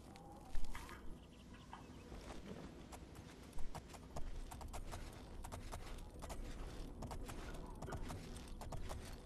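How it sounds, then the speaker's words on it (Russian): Horse hooves clip-clop at a steady walking rhythm while riding in the Oblivion video game, close and continuous over a dense background of game ambience. "Как все-таки после Shadow of the Colossus приятно на местной лошади кататься."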